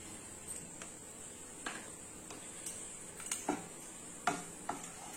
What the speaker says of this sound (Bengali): এবার এটাকে ভালো করে একটু গরম করে নেব, গলিয়ে নেব।